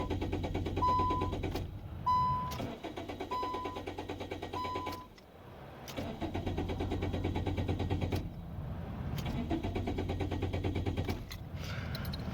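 A 2004 Nissan Sentra with a faulty camshaft position sensor cranks over and over without catching, making a rapid rhythmic churning in repeated attempts separated by brief pauses, with a chime sounding during the early tries.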